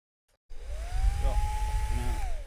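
A hair dryer switches on abruptly and runs with a steady, loud whirring hum and a rising whine that holds to the end.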